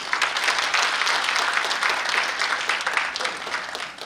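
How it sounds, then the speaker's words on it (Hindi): Applause from an audience at a saints' conference, steady broadband clapping sustained for the whole stretch at moderate loudness. "आप सबकी तालियां भी चाहता हूँ।"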